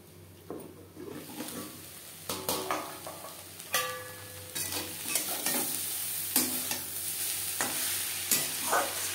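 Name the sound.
brahmi greens sizzling while stir-frying in a pan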